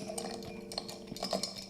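Bar spoon stirring an orange juice highball with a half ounce of Galliano, quick clinking and scraping against the glass in a short close-up burst, no talking.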